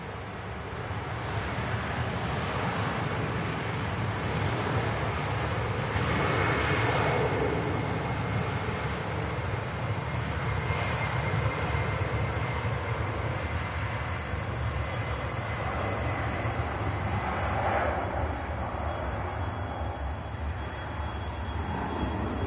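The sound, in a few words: aircraft departing Manchester Airport for Toronto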